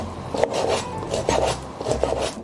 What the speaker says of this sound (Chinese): 我们先切小块